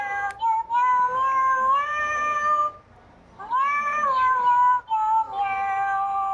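A toy cat gives a series of electronic meows, each a bright, tonal wail that rises and falls, repeating with a brief pause in the middle, clear and close with no talking.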